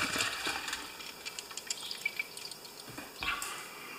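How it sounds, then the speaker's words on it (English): Gasoline pours out of the tank of an older Toro lawn mower in a trickling, dripping stream of liquid, close and moderately quiet, with irregular splashes. "Let's pour the gas out of this tank first."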